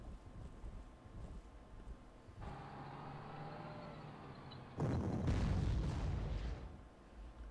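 Artillery fire in the strategy game Panzer Corps starts as a low rumbling blast, then a louder, sharper boom follows midway and fades into a rolling tail.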